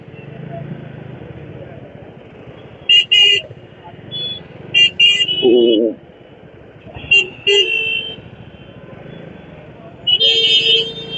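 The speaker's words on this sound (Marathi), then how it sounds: "कशाला हॉर्न वाजवतो काय माहिती." Vehicle horns honk in a busy road in several separate short blasts, some doubled, over a steady engine rumble, with voices talking nearby.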